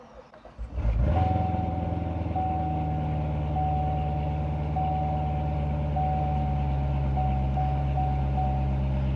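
A 2018 Corvette Z06 3LZ convertible engine cranks and catches with a sharp rev, then settles into a loud, steady, deep idle close by with a continuous chime tone over it.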